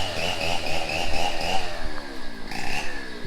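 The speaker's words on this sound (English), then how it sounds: "the guys are making their rounds with the chainsaws and starting to clear out some of the downed mango trees" Chainsaws roar steadily nearby while clearing downed mango trees at a house-building site in the Philippines, the engine pitch shifting as the saw works.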